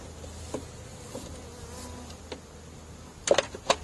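Honeybees buzz around an open hive being worked in July, a faint, thin hum drifting in and out, with a few sharp knocks and clicks close by near the end.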